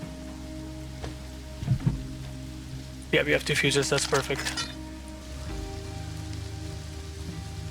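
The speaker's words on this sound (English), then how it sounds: "Man, this rain is so loud, I can't really hear anything." Rain in the survival video game Rust, a steady hiss of rainfall running throughout; a person speaks briefly over it, and a short burst of louder noise rises in the middle.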